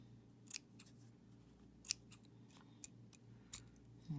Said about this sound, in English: You want to trim it to your liking, however you prefer or however you would like it to be. And just keep trimming.